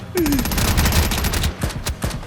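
Rapid automatic gunfire in the game Quarantine Zone rattles off in a loud, dense burst, with closely spaced shots that slow toward the end.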